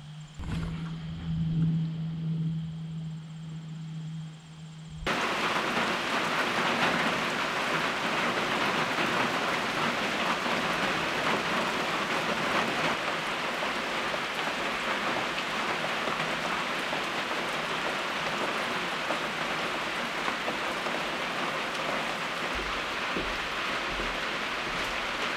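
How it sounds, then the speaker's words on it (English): Steady rain pours down outdoors after a brief quieter lead-in, a dense, constant hiss of falling water that holds without letup for the rest of the stretch. "It has rained non-stop for like 30 hours."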